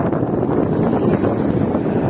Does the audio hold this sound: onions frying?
no